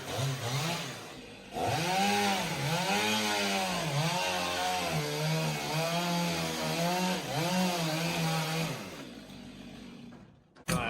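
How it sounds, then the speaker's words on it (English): Two-stroke chainsaw cutting log cabin roof timbers during framing, a loud close buzz that bogs and recovers in repeated wavering surges under load, then winds down near the end. "The raw power of the two-stroke engine eliminates tedious hand sawing."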